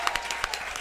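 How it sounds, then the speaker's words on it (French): A studio audience claps briefly in a steady patter of hand claps, moderately loud, at the close of a podcast episode. "Coralie Laperrière, tout le monde, on applaudit."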